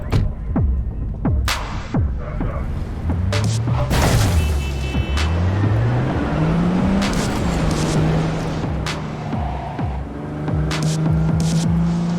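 A car driving in Cyberpunk 2077, its engine throbbing and climbing through gear-like pitch sweeps, with a steady motor hum and scattered sharp clicks over continuous road noise, fairly loud and with no voices.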